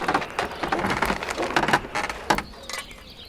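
In Kingdom Come Deliverance 2, a hot blade is plunged into water to quench it, throwing off a crackling, hissing sizzle in uneven bursts that gradually thin out and fade.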